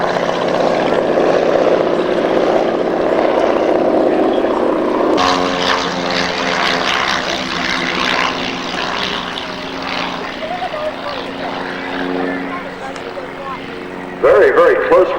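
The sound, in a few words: propeller aircraft racing past, Sky Race Tasmania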